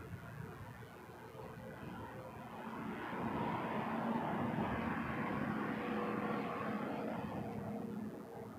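An Air Canada Airbus A321 from Vancouver rumbles at a distance at Toronto Pearson, a broad steady engine roar that swells slightly midway and holds, with no voices.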